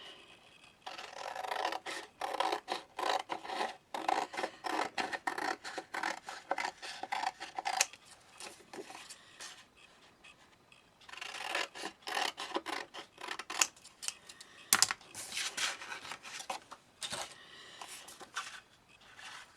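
Scissors cutting a paper figure out along drawn lines for a homemade pocket family craft: close, rasping snips in rapid bursts, two long stretches of cutting separated by a brief quieter pause, with no talking.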